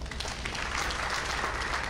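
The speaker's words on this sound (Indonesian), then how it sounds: "Tepuk tangan buat Tuhan" Applause from a church congregation, a dense wash of clapping that fills the short moment at a steady moderate level without clear pauses.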